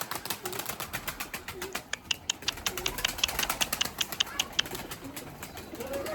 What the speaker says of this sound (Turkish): Beyaz güvercin ordusunu bir çıkaralım arkadaşlar dışarı.